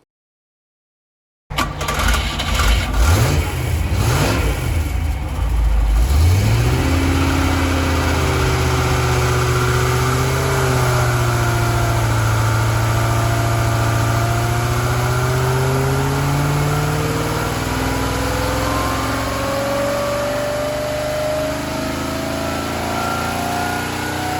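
A rebuilt Rover 3.5-litre V8 engine on a dyno starts and revs up loudly, then holds a sustained roaring run with rising pitch, heavy and close, no voices.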